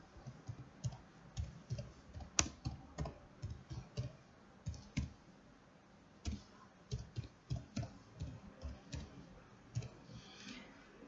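Typing on a computer keyboard while entering a school's name into a spreadsheet cell, a quick irregular run of close, crisp key clicks in short bursts with small pauses, steady and fairly quiet throughout with no talking.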